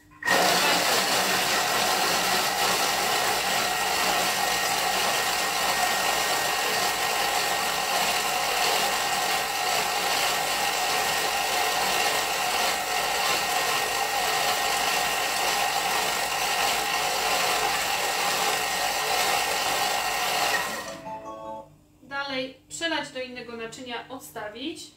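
A Thermomix food processor spinning at speed 6 roars loudly and steadily for about twenty seconds, then stops abruptly, and a voice speaks briefly afterwards.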